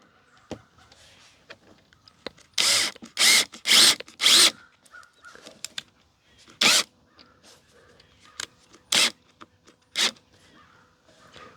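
A drill drives a screw into a deck board clip during deck building, in several short bursts of whirring, some clustered closely together and others spaced apart, loud and near, with quiet handling noises between them.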